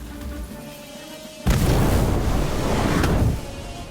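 A burst from the Incendio fire spell in Harry Potter: Magic Awakened, going off with a sudden loud whoosh and boom that lasts about two seconds and then dies away to a low hum.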